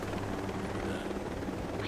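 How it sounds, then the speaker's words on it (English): A helicopter in the video game Ghost Recon Breakpoint thrums loud and close, its rotor chop steady and unbroken throughout. "This freaking helicopter, man!"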